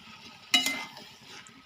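Prawns drop into a hot pan while cooking a spicy-sour fig curry, giving two sharp bursts of sizzling and frying with a quieter crackle between them, close and loud.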